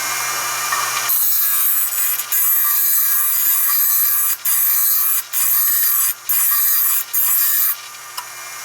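A bench grinder sharpens a badly worn lawn mower blade: loud, continuous high-pitched grinding in long passes, broken by several short gaps as the blade lifts off the wheel.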